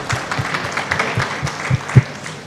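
Brief applause from an audience at a live literature festival event, with broadband claps and a few low thumps standing out near the end.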